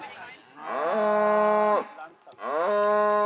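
Cattle of a traditional breed on a hillside pasture in Ginolfs, waiting for the seasonal drive down to the valley, give two loud, drawn-out moos, one after another, close by, with no voices.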